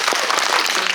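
A theater audience applauds an actor at a film screening talk, a brief burst of dense, steady clapping.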